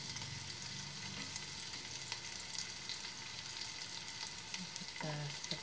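Garlic frying in a pan with chili flakes and oyster mushrooms, a soft, steady sizzle throughout, with a brief clatter of a utensil near the end.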